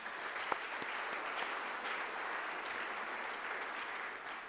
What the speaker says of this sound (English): I'd like a round of applause for this group as well.